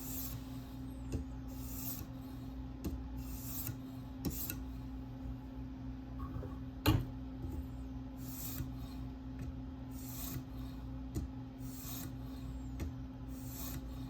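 A K390 steel Delica knife being sharpened on TSProf K03 stones, giving soft, repeated rasping strokes in a steady rhythm, quiet and close, with one sharper click midway.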